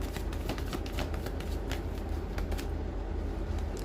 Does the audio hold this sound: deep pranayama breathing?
no